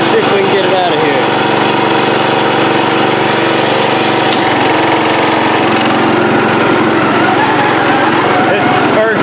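A Wizard lawn mower's engine runs steadily and loud close by, a continuous buzzing drone that holds throughout without pause.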